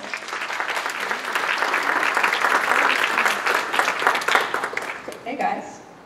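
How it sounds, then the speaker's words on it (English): Audience applause for a speaker being introduced at a talk on AI in medicine, a steady dense clapping that swells and then tapers off toward the end, with no talk over it. "let's give her a big round of applause"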